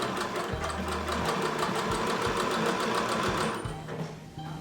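A home sewing machine stitches buttonholes on a summer garment, running in a fast continuous mechanical whir with rhythmic needle knocking, close and steady for several seconds, no speech.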